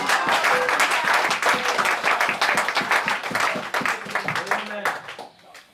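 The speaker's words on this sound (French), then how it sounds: "Donnez une acclamation à Dieu" A church congregation applauds loudly and continuously in a dense, steady wash of clapping that fades toward the end, with voices heard among the claps.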